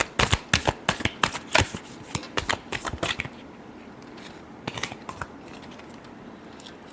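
A deck of tarot cards is shuffled in rapid, crisp riffles for about three seconds, then a pause and a few softer card flicks, close and clear with no talking.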